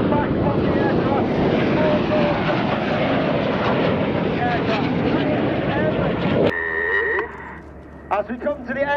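An aircraft at the Cosford Airshow roars loudly and continuously overhead, then the noise cuts away to quieter background with a brief tonal signal near the end.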